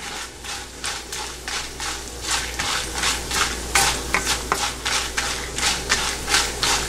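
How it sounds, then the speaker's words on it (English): A spoon stirs and scrapes ingredients frying in sesame oil in a pan for puli kulambu, with steady rhythmic strokes about every half second, close and clear, over a low constant hum. "Stir it well until they get slightly brown color"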